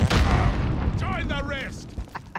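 A grenade blows up in Call of Duty Modern Warfare gameplay: a loud boom right at the start trails off into a rumbling decay, with a voice talking over the fading blast.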